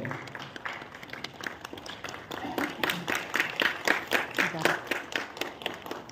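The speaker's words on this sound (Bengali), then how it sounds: "একটা জোরে হাততালি দিয়ে আপনারা যদি একটু দাঁড়িয়ে একটা হাততালি দেন" An audience at a national theatre festival applauds on stage-side, a steady patter of many hands clapping that grows louder and denser toward the end, with faint talk mixed underneath.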